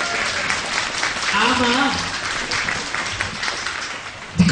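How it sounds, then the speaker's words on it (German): Visitors at the first knights' festival in Bad Hersfeld applaud loudly, a dense steady clapping crowd while a voice talks over it partway through. "das ist ein ganz großer Applaus für uns"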